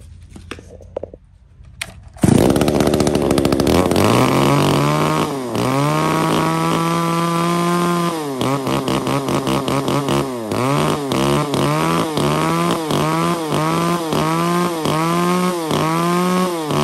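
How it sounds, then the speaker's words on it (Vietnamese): Japanese chainsaw engine pulled over and started, catching after a quiet pause, then idling and revving loud and close in repeated surges; no talking. "bây giờ thì em sẽ giật test nổ con này cho anh em nghe qua anh em nhé"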